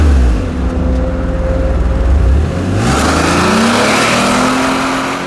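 A front-wheel-drive Alfa Romeo 164 with a 180-horsepower V6 accelerating hard, the engine note rising through the revs, then a gear change and a brighter, rushing climb continuing loudly to the end.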